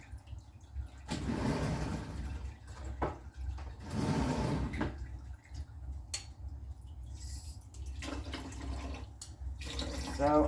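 Dandelion tea liquid is strained into a pan, giving soft splashing and pouring water sounds in several bursts with quieter gaps, close and faint, with no talking.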